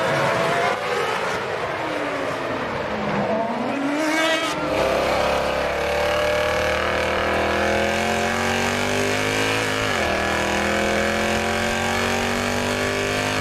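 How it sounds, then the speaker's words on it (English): A 2006 Formula 1 car at the Montreal Grand Prix weaves through a tyre warm-up, its high, loud engine note rising and falling with sweeping revs as the rear wheels slide, a continuous near roar. "Alonso does his trademark tyre warm-up with the rear wheel sliding all over the place"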